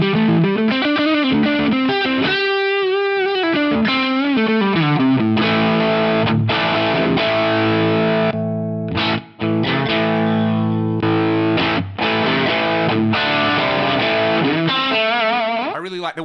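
Electric guitar on the neck pickup through a smooth drive pedal on a Fractal VP4, playing sustained, gliding melodic lines and held chords, loud and continuous with a slightly chorused, saturated tone.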